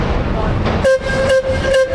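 The horn of the First Lady river cruise boat in Chicago sounds three loud, evenly spaced toots as the boat turns at the river confluence, over a steady rumble of engine and wind.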